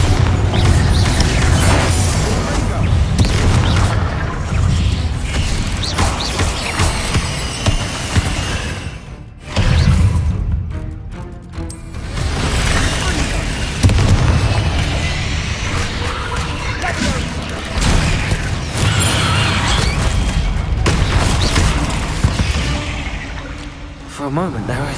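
Repeated Bombarda explosion spells in Hogwarts Legacy burst among crashing, shattering debris and dense game sound effects, with a brief lull in the middle and voices speaking throughout.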